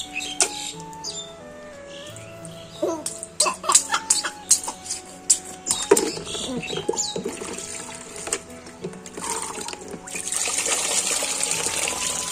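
Water splashes and pours as a seven-month-old baby boy is bathed in room-temperature water, with intermittent sloshing and a steadier gush toward the end, mixed with the baby's soft vocal sounds.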